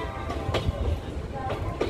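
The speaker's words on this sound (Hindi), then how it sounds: "और दोस्तों देख सकते हो ट्रेन अपनी पहुंच चुकी है" The Lucknow Varanasi Intercity Express rolls into Varanasi Junction with a loud, continuous rumble and periodic wheel clatter, heard from on board, with a voice speaking faintly beneath.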